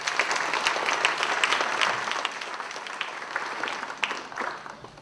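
Audience at a college convocation in a performing arts center applauding, a full crowd of many hands clapping steadily at moderate distance, with a few louder nearby claps and a gradual fade at the close.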